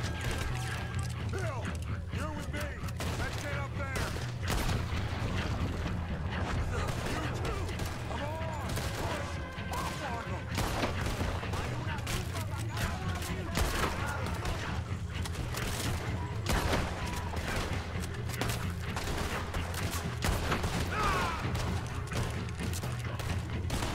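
Gunshots from a weapon in Red Dead Redemption 2, sharp cracks repeating irregularly amid mechanical clatter and creaks, with a voice talking over the dense, busy action.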